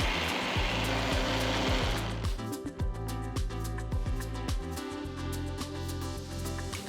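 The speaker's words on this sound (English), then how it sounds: "Add the chopped pieces to a mixer jar, grind it to a fine puree and keep it aside" Mixer grinder whirring loudly as it purees chopped ripe Alphonso mango pieces in its jar, a harsh motor roar that settles into a steady whine with rhythmic chopping pulses as the blades churn the pulp.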